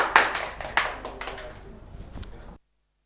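An audience at an Indonesian stand-up comedy show claps in short bursts that swell and fade, then stop abruptly into silence.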